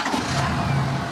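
A 7.3 Powerstroke diesel truck engine revs steadily up close, a loud continuous rumble with a low drone held throughout the short burst.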